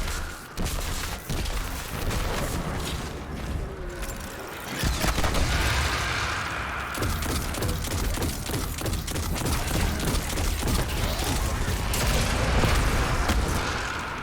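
Cursed thrall in Destiny 2 explode amid continuous game combat, a loud, dense wash of booms and gunfire that swells and keeps going without pause. No one talks over it.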